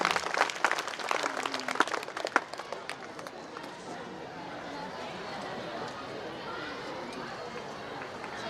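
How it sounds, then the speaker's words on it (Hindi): Audience applause at a school annual function, greeting the chairperson as she comes to the stage: dense clapping at first, tapering into a steady crowd wash with scattered claps. "एक जोरदार तालियां"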